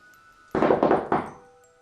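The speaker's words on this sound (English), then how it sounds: "I'm gonna knock." Three loud, uneven knocks on a front door, heavy thumping blows landing close together and ringing out briefly after the last, performed as a demonstration of erratic knocking.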